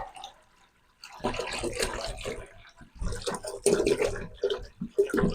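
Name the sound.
pouring water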